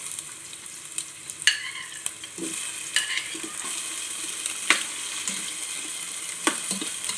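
Tomatoes sautéing with onion in a pan for a sinigang dish of fish head, a continuous frying sizzle broken by sharp scrapes and clinks of a utensil stirring every second or so.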